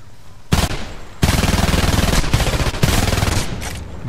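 XM10 assault rifle fire in Homefront team deathmatch on the Borderlands map: loud sustained automatic bursts with rapid rattling shots, three long strings broken by brief pauses, close and dominant with no talk.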